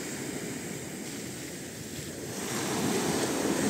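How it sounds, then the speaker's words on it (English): Wind blows steadily outdoors at Mui Ne fishing village, Vietnam, with a broad rushing noise that swells louder toward the end, along with a soft wash like distant surf. "A little bit windy."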